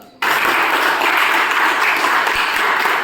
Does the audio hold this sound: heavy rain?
no